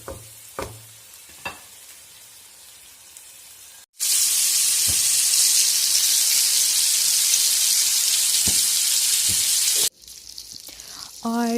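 Vegetables and fried chicken kebabs sizzle loudly in a hot pan, a steady intense frying hiss lasting several seconds after quieter stirring clicks, with a few taps and scrapes.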